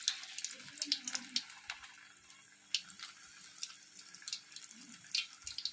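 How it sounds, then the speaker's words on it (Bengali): Prawns deep frying one by one in hot oil over a low flame, a steady quiet crackle and sizzle with brief spattering bursts, with faint voices now and then. "আর চিংড়ি মাছের এই লেজগুলো ধরে তেলেতে একটা একটা করে ছেড়ে দেব"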